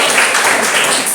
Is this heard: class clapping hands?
yes